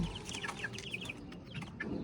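Backyard chickens cluck softly and repeatedly in a rapid, chattering series against a low background rumble, fairly close but quiet, with no voices.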